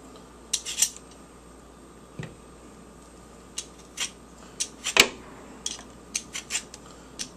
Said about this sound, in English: And then I just chop this up really,